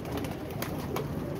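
A pigeon coos softly in a low, repeated murmur, faint and close, during rough weather, with no talking over it.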